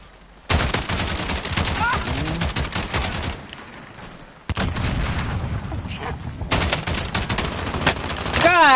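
Rapid automatic gunfire from a video game gun crackles in loud sustained bursts, broken by a short pause, with a player's voice talking over the shooting.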